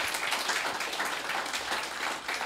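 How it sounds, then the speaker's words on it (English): Audience applause after a round of startup pitches at a venture summit, a steady, fairly faint wash of many hands clapping without pause, heard from a distance with no voices over it. "Can we give a round of applause?"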